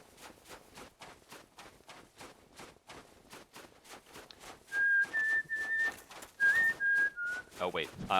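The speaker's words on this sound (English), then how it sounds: "I'm not sure how whistling is going to handle in the recording" Someone whistles near the microphone in a few short, bright melodic phrases over faint background sound during Dark Souls gameplay.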